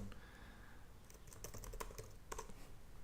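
Typing on a computer keyboard, entering a short search for a WordPress plugin download; a quick burst of light, close key clicks in an irregular rhythm over faint room hum, no talking.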